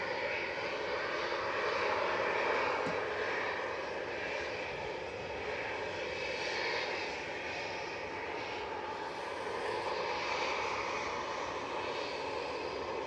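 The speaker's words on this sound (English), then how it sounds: "We've got Jet2's JZHG just lining up in front of us here, 737-800" A Jet2 Boeing 737-800 airliner lines up on the runway at Manchester Airport, its engines giving a steady, fairly loud broadband roar that holds without pause, no talk.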